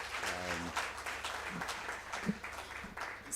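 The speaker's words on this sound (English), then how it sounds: "a louder hand clap" Audience members at a national HIV and AIDS symposium applaud a speaker. The clapping is soft and distant in a large hall, with a brief voice at the start.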